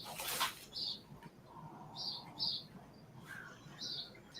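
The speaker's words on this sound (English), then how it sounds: "her birds are louder" Birds chirp in short bright bursts at moderate distance, scattered irregularly over a quiet background with faint low rumble.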